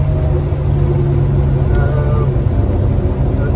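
A steady, low engine drone hums continuously at an even pitch, heard from inside a 1600 hp 1961 Jaguar E-Type cruising at constant speed around 2,500 rpm.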